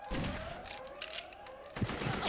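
Gunfire in the co-op shooter Perfect Dark Zero, a rapid burst of shots that is fairly faint, over a rising siren-like tone with another cluster of shots near the end.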